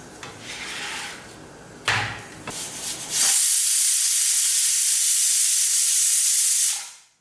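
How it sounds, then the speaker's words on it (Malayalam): A pressure cooker whistle hisses loudly and steadily for several seconds, then cuts off, after a few clattering kitchen sounds. "നമ്മുടെ കുക്കറിൽ ഒരു വിസിൽ പോയിട്ടുണ്ട്"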